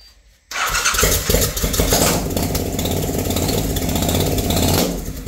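A 1200cc motorcycle engine fitted with small eBay turbos turns over and catches after a brief pause, then settles into a loud, close, continuous rumbling idle that runs steadily until it drops near the end.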